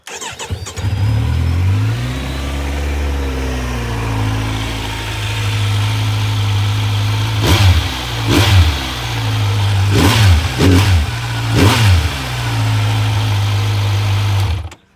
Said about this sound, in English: So that's what the standard exhaust sounds like.